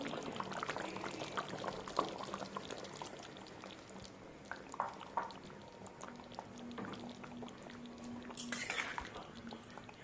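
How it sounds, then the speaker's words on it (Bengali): Thickened milk is poured into a pot of shukto, a liquid splash and bubbling with light clinks of utensils, close and fairly soft, with a brief louder gush near the end. "এখানে দিয়ে দেব দুধ।"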